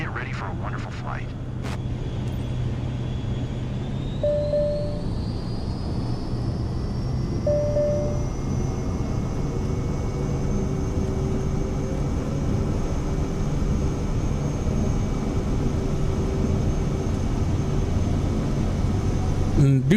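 A flight-sim airplane engine drones steadily during takeoff, a continuous mid-loud hum with a rising whine that holds to the end, with a few brief clicks near the start.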